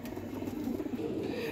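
A golden high-flying pigeon with colored markings on both sides coos in low, steady murmurs, close and continuous against a soft background hiss, with no one talking.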